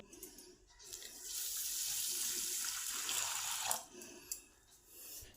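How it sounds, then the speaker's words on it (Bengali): Rice being washed in water, a swelling rush of running, swishing water lasting a few seconds, then dying down to lighter splashes and drips, close and fairly quiet. "চালটা পরিষ্কার করে ধোয়া হয়ে গেছে"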